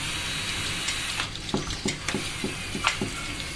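Food sizzling in a frying pan, a low steady hiss with a few soft stirring clicks and scrapes near the end, fairly quiet and close with no voices.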